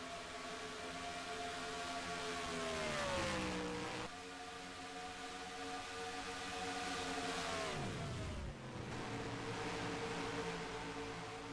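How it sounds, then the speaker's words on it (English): A race car, number 19, lapping Atlanta Motor Speedway, its engine holding a steady high drone that twice dips sharply in pitch as the driver clutches, then recovers, heard continuously and fairly loud without voices. "Hearing just a little bit of clutching though from that 19"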